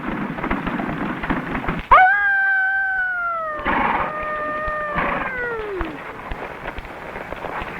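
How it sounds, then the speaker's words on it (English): A single drawn-out howl rises then slowly falls over about four seconds, with a couple of overlapping wavering calls, set against steady rain-like background noise. "Coyotes never howl in the daytime."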